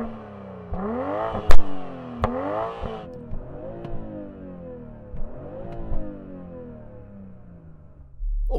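Tuned BMW M340i straight-six revving hard in repeated sweeping pulls with rising and falling pitch, sharp pops between throttle blips, loud and close, ending in a low idle rumble.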